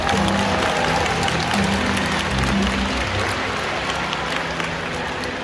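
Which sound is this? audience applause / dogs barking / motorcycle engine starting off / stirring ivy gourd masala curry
audience applause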